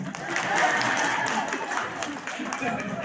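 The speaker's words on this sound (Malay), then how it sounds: "Dan tepuk tangan." An audience at a Brunei mosque visit and dikir performance event claps for a second-place Sarawak state award, a moderate wash of applause with voices mixed in, steady throughout.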